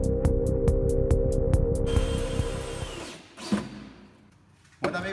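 A power drill drives screws into a wooden bookshelf, whirring steadily and loudly up close with rapid pulsing for about two seconds, then trailing off into quieter handling knocks and a final thump.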